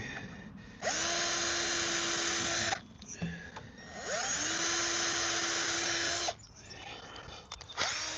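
A power drill drives screws into a wooden sandbox bracket in two sustained whining runs, each spinning up in pitch before holding steady, separated by a brief quiet pause with small handling noises.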